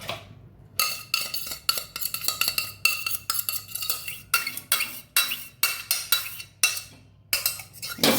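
Cooked muskmelon is scooped into a metal vessel: a rapid series of close, sharp metallic scrapes and clinks from a spoon against metal, repeating in quick bursts with short pauses.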